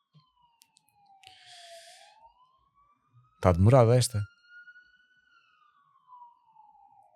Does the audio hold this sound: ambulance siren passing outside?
yes